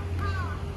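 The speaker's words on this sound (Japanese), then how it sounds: "カラスがうるさいですね" Crows caw in short harsh calls against a steady low hum of traffic or machinery, moderately distant, at an electric vehicle charging station in snowy Japan.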